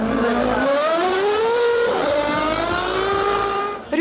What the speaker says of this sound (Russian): Рев моторов слышно за версту.